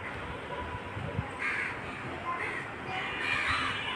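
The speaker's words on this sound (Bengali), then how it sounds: "আর এদিকে দেখুন কতগুলি কাক হঠাৎ করে চলে আসলো" Several crows gathered on a rooftop where food was put out, giving repeated harsh caws at moderate distance over a steady background hiss.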